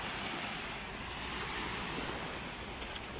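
Steady wash of seaside waves and surf, a continuous broad roar with wind in the background, no voices.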